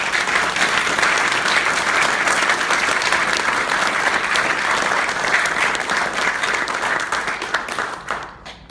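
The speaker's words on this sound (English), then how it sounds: "Let's give one more round of applause for Anu." Loud, sustained applause from an audience at a celebratory event, dense clapping filling about eight seconds before quickly fading out at the end.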